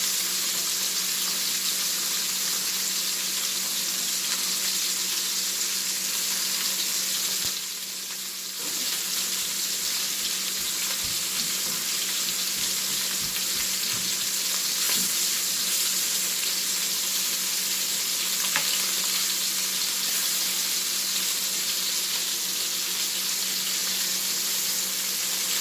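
Sausage meat fries in a pan with a steady, close hiss and crackle that runs unbroken, with a short dip partway through and faint clinks of stirring.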